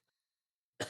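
A single short cough bursts out after near silence, close and fairly loud, with a brief rough tail, heard alone on a talk show.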